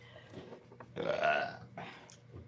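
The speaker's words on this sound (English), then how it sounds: "Nice belch." A single loud, drawn-out belch, guttural and rough, rises out of quiet room noise, with faint softer sounds before and after.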